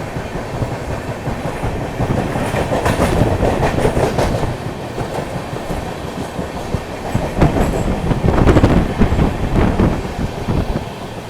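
The 12809 Howrah Mail, hauled by a WDG4 diesel locomotive, runs on the line between Nagpur and Howrah. A steady, loud rumble of coaches with rhythmic clickety-clack wheel beats is heard from on board, with no talk.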